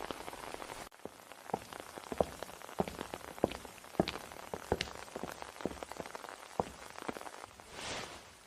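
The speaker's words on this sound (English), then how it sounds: "I can just wait for the rain to let up and walk by myself." Rain drips and patters on a nearby surface in uneven, irregular drops, moderately quiet with a steady background wash and no voices.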